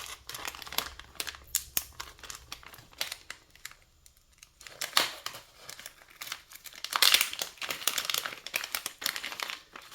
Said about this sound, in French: Alors, on va ouvrir la petite pochette.